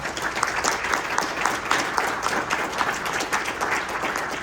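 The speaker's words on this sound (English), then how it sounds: "Let's give them one more round of applause." Round of applause from a luncheon crowd at an economic development event, a steady wash of many hands clapping at even loudness throughout.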